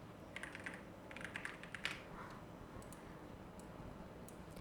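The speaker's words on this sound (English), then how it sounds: "I'm just going to type in the word typing" A computer keyboard is typed on in quick clusters of light, close clicks early on, with a few isolated keystrokes afterward, all faint against a quiet background hiss.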